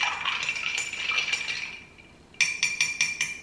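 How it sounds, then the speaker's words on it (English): Ice clinks and rattles against glass as an amaro Manhattan cocktail is stirred, a bright continuous jingle close up, then pausing briefly before sharper rhythmic clinks resume. "So you stir this up"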